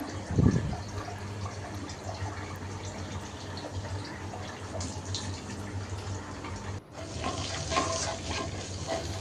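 Onions sizzle in hot oil in a pan and are stirred, giving a steady crackling hiss with a louder scrape at the start and clattering stirring strokes.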